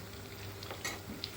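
Lentil fritters fry in hot oil, giving a steady, close sizzling hiss with faint ticks and pops.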